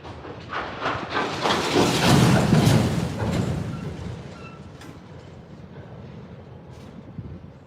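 A freight train on a Norfolk Southern line rolls past, including a Canadian Pacific auto rack, with a loud broadband rumble and clatter that swells near the middle and then eases to a steadier, quieter roll. There is no talk.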